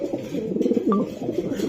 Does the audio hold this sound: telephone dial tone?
no